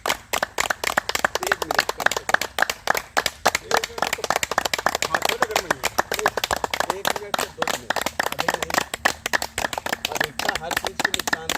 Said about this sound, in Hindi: तो उनके लिए ताली हो जानी चाहिए भैया